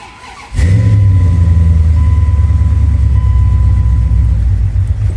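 A Ram 1500 pickup's 5.9-liter Magnum V8 with 3-inch true dual exhaust cranks and fires at once, then settles into a loud, deep, rumbling idle with a steady throaty exhaust burble.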